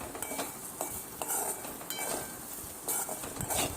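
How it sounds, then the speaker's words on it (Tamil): A spoon scrapes and clinks steadily against a pot while stirring a mashed potato mixture with salt, with a faint sizzle underneath. "உப்பு சேர்த்து அப்புறமும் நல்லா கலரி விட்டுக்க வேண்டியதான்"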